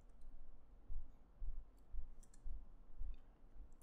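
Computer keyboard being typed on, with a handful of soft, evenly spaced key clicks close to the microphone over a quiet background.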